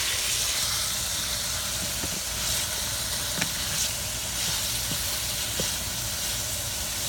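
Pancit noodles frying in a pan, a steady soft hiss throughout with a few faint clicks and taps of utensils, no talking.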